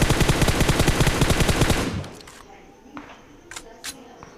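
Automatic gunfire in the PUBG battle royale game, a rapid burst of evenly spaced loud shots lasting about two seconds, then a quieter scene with a few faint clicks and small sounds.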